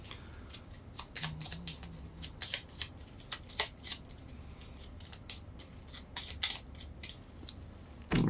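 Board game cards being shuffled at a tabletop, a run of crisp riffling snaps and rustles in quick irregular bursts over several seconds, close and fairly quiet, with no talking.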